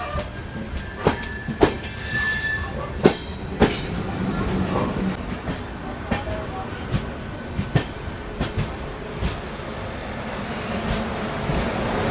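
An Amrit Bharat Express overtakes the Tatanagar–Buxar Express on the outer approach to Patna Junction, a steady loud rumble of rolling rail wagons with repeated sharp clicks from wheels over rail joints and brief high wheel squeals.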